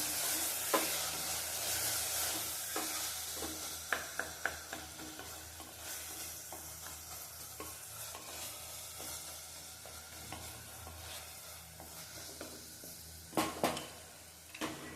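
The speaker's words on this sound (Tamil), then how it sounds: "கழுவி வச்ச புதினா தலையும் கொத்தமல்லி தலையும் சேர்த்துக்கலாம். சேர்த்துட்டு நல்லா வதக்கி விட்டுடலாம்" Mint and coriander leaves sautéed in a pan, with steady sizzling and frying under repeated stirring and occasional clinks of a utensil against the pan, close and continuous without any talk.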